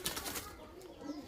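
A Giribaz pigeon in a loft is released and takes flight with a quick, soft burst of flapping wings that fades into faint background noise.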